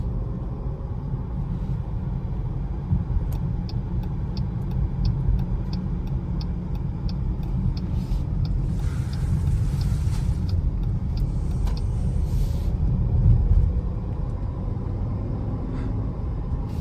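A 2025 Jeep Grand Cherokee Summit Reserve cruising on the highway, heard as a steady low road and engine rumble from inside the cabin, continuous and even, with faint ticking like a turn signal partway through and no speech.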